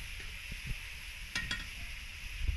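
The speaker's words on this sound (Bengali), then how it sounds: "পেঁয়াজটা ভেজে নিই" Onions frying in a pan for a mutton curry, a soft steady sizzle with a few stirring clicks, close and fairly quiet, no talking.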